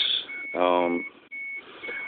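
A Geo Metro's door light switch sets off a steady high warning beep that repeats with short gaps, close by, while someone talks over it.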